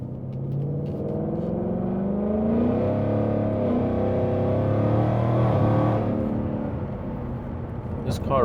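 Supercharged 2020 Mustang GT 5.0 V8 held in steady, loud revving with rising and falling engine tones as it drops from third to second gear, ending in a sharp crisp blip; a voice talks over it.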